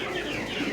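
A laying hen clucks softly and close by in a brief burst, with no other sounds around it.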